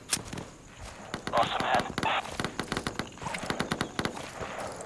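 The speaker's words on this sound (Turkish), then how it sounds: "İleriden bizimkiler ateş açıyorlar" Rapid bursts of gunfire crackle in the tactical shooter game Insurgency, sharp repeated shots in uneven volleys over a couple of seconds, some sounding distant, amid footsteps and background game noise.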